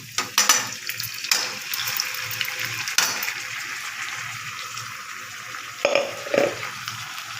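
Ground garlic and tomato masala for a potato fry sizzles in a pan, with repeated scraping stirs and a few louder clatters near the end, and no voices.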